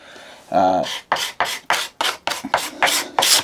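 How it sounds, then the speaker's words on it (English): A small card scraper shaves the wood of a hand-cut mitred half-lap joint in about nine quick, evenly spaced rasping strokes, close up and crisp. "you can smooth out much better just with a little card scraper"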